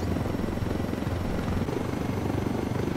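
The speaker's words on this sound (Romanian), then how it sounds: "avion inamic" Enemy helicopter in the Ghost Recon Wildlands video game, a steady rotor chop that stays loud and close throughout, with no voices over it.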